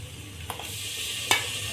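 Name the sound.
spices and tomato paste frying in a pan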